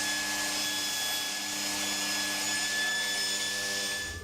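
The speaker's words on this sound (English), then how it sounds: "I'm going to rip them down to rough size on the bandsaw first" A bandsaw rips wooden boards to rough size for an end grain cutting board, a close, steady whine with a hissing cut that holds for several seconds.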